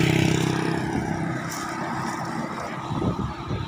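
A motorcycle ridden slowly through a subdivision to warm up the engine in light drizzle, its steady, moderately loud engine drone close by, with faint wind rush and a small rise in revs near the end.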